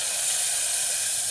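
Chopped tomatoes hit hot oil with browned cumin seeds, giving a steady, close, even sizzle and hiss that holds unbroken for the whole moment.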